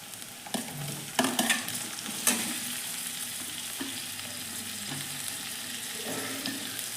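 Chopped tomatoes drop into onions sautéing on full heat for a prawn tomato bhaji. A steady sizzle runs throughout, with loud scraping stirs and a few sharp clatters of the spoon against the pan.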